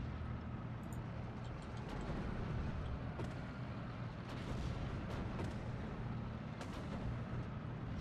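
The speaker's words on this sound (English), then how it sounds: "Is that artillery shooting at us or something?" Steady artillery fire from the video game Steel Division: Normandy 44, a dense rumbling barrage of low booms with scattered sharp cracks, continuous and fairly loud throughout.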